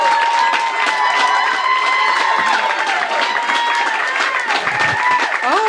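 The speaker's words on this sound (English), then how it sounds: "Clap it up for her!" A stand-up comedy audience at the Triad Theatre in New York claps, cheers and whoops loudly as a comedian is welcomed, with excited voices shouting over the steady applause.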